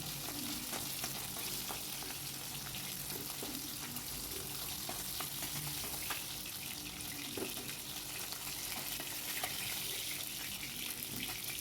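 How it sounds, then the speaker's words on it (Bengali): Fish fries in oil in a pan, giving a continuous, dense sizzle that stays close and steady, with small crackles and occasional stirring scrapes and no talking. "বাকি মাছগুলো ওই একইভাবে ভেজে নেব।"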